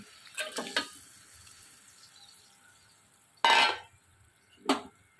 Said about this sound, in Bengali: ঝোলটা এখন ফুটে গেছে, এখন আমি এতে মাছগুলো দিয়ে দেবো।